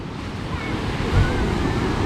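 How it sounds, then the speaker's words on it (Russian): Small waves roll onto the Black Sea shore at Yalta, a steady wash of surf mixed with wind buffeting the microphone, with one brief swell of louder surge midway. "На море такой небольшой накат волн идет."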